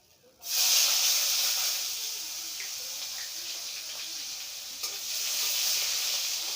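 Chopped onion and nigella seeds dropped into hot oil for a Bengali pabda fish curry, bursting into a sudden loud sizzle that settles into a steady, close hiss with a brief flare near the end.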